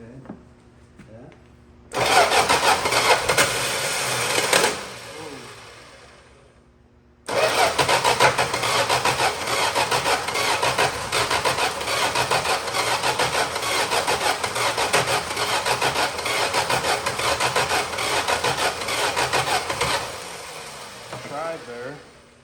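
A 1961 Plymouth Valiant that sat unused for 30 years cranks in a loud burst, pauses, then catches and runs roughly for a long stretch, close up, before cutting off.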